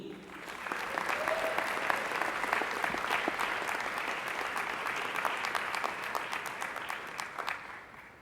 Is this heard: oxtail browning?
no